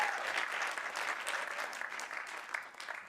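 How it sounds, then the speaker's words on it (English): A school board meeting audience applauds a Teacher Excellence Award recipient, a brief burst of steady, moderately loud clapping from a crowd that continues evenly without speech. "We'll give her a quick little applause as we run through."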